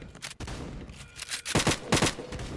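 Gunfire in the Roblox video game: several quick bursts of shots, loudest in a close cluster near the end, over a busy background of game noise.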